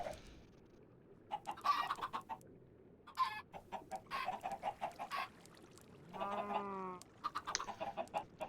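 Chickens on a Minecraft chicken farm cluck in short, repeated bursts, with one longer squawk partway through, all over a soft constant background hiss.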